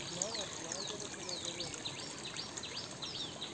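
The 80-foot plunge-type Devkund waterfall pours as a steady, soft broadband rush of water, with small birds chirping repeatedly over it throughout.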